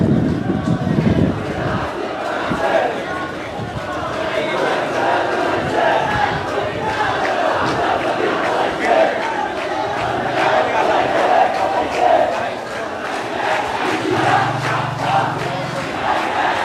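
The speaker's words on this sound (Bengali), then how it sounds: "শিক্ষার্থীরা বিক্ষোভ মিছিল নিয়ে তারা মূলত হাইকোর্টে ভেতরে চলে আসে এবং বিক্ষোভ করছে।" Students staging a protest march inside the High Court compound, a dense crowd chanting and shouting slogans together, voices overlapping in a continuous near roar with rhythmic surges of cries throughout.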